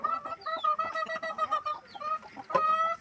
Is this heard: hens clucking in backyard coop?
yes